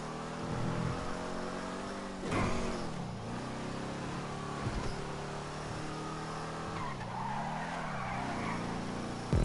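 Car engine in Grand Theft Auto 5, an Enus Stafford sedan, driving steadily with revving, tyre skids and braking squeals across the stretch, loud and continuous with no talk.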